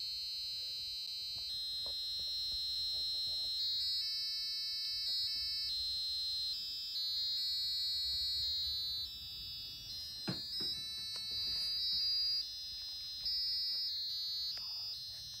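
A piezo buzzer wired to a micro:bit with crocodile clips plays a cheerful melody as a string of shrill, steady electronic tones changing pitch note by note, sounding alone and fairly loud for about fifteen seconds.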